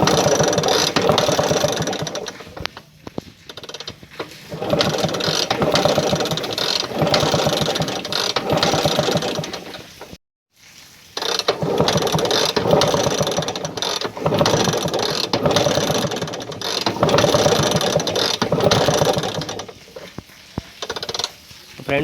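A Bajaj Chetak two-stroke scooter engine, started after long disuse, runs with a rattling, ratchety chatter, steady and loud throughout, cutting out briefly midway before catching again and idling on.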